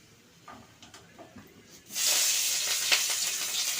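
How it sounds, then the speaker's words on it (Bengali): Split green chillies hit hot oil in a pan: after quiet kitchen clatter, a sudden loud hissing sizzle bursts in halfway through and holds steady with crackling spatters, close by and without speech. "ভেজে নেব একটু তেল ছিটকাচ্ছে কাঁচা এর জন্য সরে এসছি"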